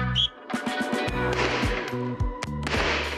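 Loud shotgun blasts go off outdoors at a shooting range in several quick bursts, with sharp cracks overlapping and ringing out.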